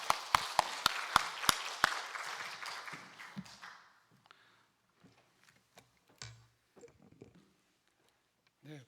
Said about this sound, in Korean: 박수 한번 하세요. 박수.